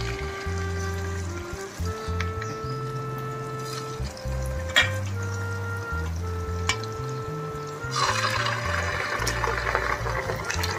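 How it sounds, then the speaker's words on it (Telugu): Paneer jalebis deep-fry in hot oil, a steady dense sizzle and bubbling that runs throughout, with occasional clinks and a burst of louder crackling near the end. "ఇప్పుడు జిలేబీలన్నీ బ్రౌన్ కలర్ వచ్చేదాకా ఇలా వేయించుకోవాలి"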